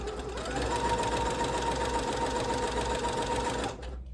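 A sewing machine stitches a fabric scrunchie in a steady, fast, continuous run lasting nearly four seconds, close and clear before stopping abruptly.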